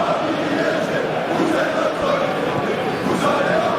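A large stadium crowd in a football video game (PES 2021) roars continuously as a steady wash of noise, with a commentator's voice faintly mixed into the din.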